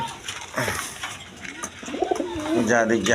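Indian Kal Dom pigeons coo in soft, throaty bursts close by, while someone talks over them.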